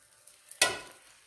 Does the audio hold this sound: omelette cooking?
yes